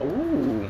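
A bird coos once beside its nest, a short, close, clear call, and a voice briefly exclaims over it.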